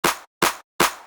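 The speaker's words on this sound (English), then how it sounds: "What we've got here is a clap sample." Three identical clap samples played in Ableton Live, evenly spaced and crisp, each a bright snap with a short decay and clean silence in between.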